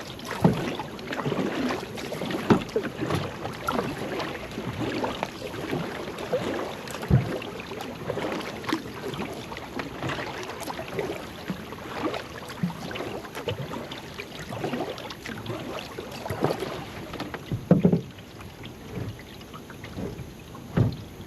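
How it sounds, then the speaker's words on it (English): A kayak or canoe is paddled on local water, with soft rhythmic splashes and drips of the paddle over faint wind noise, close and fairly quiet throughout. "Keep paddling."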